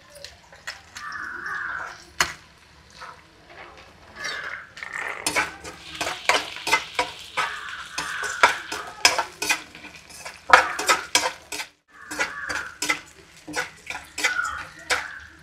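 Beans with onion and green chili sizzle in a pan while a utensil stirs and scrapes repeatedly, making close, clattering strokes over a steady frying hiss; a voice speaks briefly now and then.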